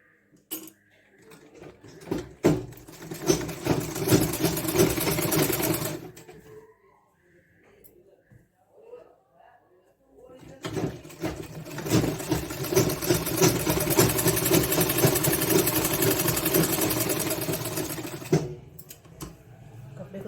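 Sewing machine stitching a lined blouse, running in two long steady whirring bursts of rapid needle chatter, close and fairly loud, separated by a quiet pause with faint handling noises.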